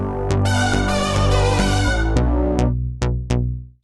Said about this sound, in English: So snappy bass comes in halfway through the intro.